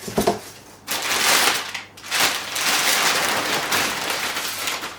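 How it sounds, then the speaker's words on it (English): Cardboard and paper packaging from a Saab 9-5 314mm brake upgrade kit being crumpled and handled, a dense crackling rustle that runs in loud bursts with a short pause near the start, close to the mic and without talk. "Looks like we are having more cardboard and paper."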